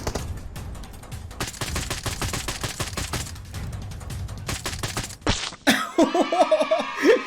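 Rapid gunfire from PUBG Mobile crackles in long bursts of sharp repeated shots. It breaks off and gives way to excited talk and laughter near the end.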